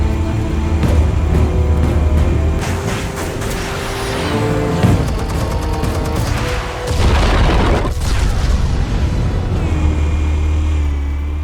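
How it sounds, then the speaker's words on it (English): Explosives detonating in the Batman Telltale Series game, a loud booming blast among dense, continuous rumbling action sound and a low drone, with a heavier burst near the middle. "Explosives armed. Fire when ready."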